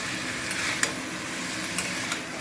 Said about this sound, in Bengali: এখানে আলুটা ঠিক মতো নাড়া যাচ্ছে না, চেষ্টা করছি